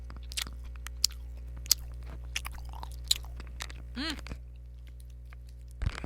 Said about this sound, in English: I'm eating a fun-sized Snickers bar.